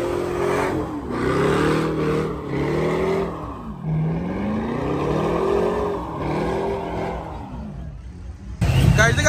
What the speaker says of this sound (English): they got burnouts all over the place over here